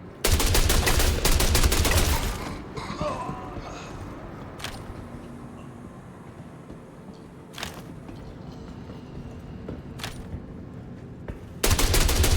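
Bursts of rapid automatic gunfire from the video game Star Citizen at the start and end, with a few single shots in between over quieter game ambience.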